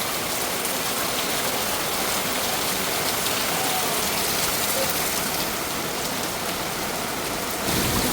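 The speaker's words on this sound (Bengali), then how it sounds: "এত সুন্দর বৃষ্টি হচ্ছে।" Steady rain pours down outdoors, a dense, even hiss of drops on surfaces that holds constant throughout with no voices.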